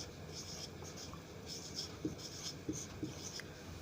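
Chalk or a marker moves across a classroom board in short scratchy strokes, writing the words for sale. The squeaks and taps are faint and come in small clusters over a quiet room hum.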